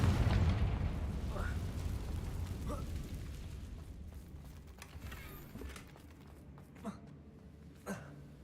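A Confringo fire spell blasts off in Hogwarts Legacy, a loud booming burst at the start that fades into rumbling, with a couple of smaller popping impacts later, all over game music.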